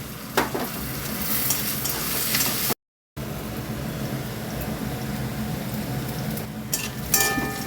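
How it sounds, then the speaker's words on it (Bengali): Eggplant and potato frying in a pan with salt and chopped onion, a continuous dense sizzle with scraping stirs, closely heard, broken by a brief silent gap. "বেগুন আলু ভাজা প্রায় হয়ে গেছে।"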